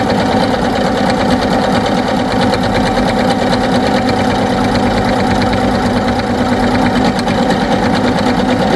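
Sewing machine stitching a buttonhole on a shirt, a loud continuous rapid mechanical chatter that holds steady without pause.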